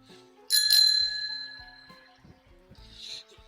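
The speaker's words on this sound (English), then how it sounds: "Great bell on this thing, though." A bicycle bell rings out clearly and close with one bright ding and its ringing decay, then a fainter second ring follows, over quiet riding noise and small rattles with no talk.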